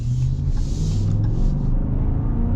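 The 5.7 Hemi V8 of a 2023 Ram 1500 Laramie pickup accelerates hard, giving a loud, deep, continuous engine rumble as heard from inside the cab.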